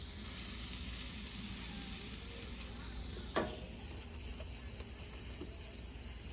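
Steak sizzling on a campsite cooking setup outdoors, a quiet, steady sizzle with one brief scrape or stir partway through, no talking.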